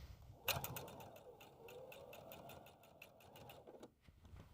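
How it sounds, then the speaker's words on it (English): A sewing machine stitches the box corners of a fabric tote bag in a close, steady run of rapid mechanical clatter, with brief pauses and restarts but no talking. "let's take them to the machine and stitch"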